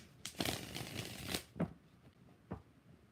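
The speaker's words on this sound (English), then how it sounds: "Two more shuffles." Tarot cards being shuffled in a quiet room, with a few brisk riffling bursts early on followed by two short, separate shuffles.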